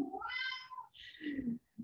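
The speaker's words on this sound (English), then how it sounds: "do you hear my cat in the background?" A house cat meows in the background, two drawn-out meows followed by a short third one, fairly faint and heard alone without talk.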